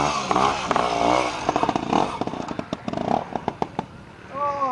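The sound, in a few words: Maxfield Bantam motorcycle engine at hill climb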